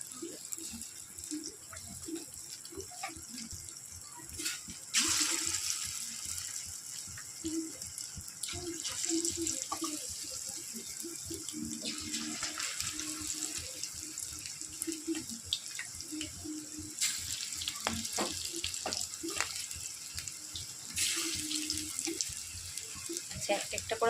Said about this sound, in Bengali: একটা একটা করে আমি সব চিকেন আস্তে আস্তে করে তেলের মধ্যে ছেড়ে দিচ্ছি।